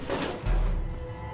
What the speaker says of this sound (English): Why is the locker gotta be so loud?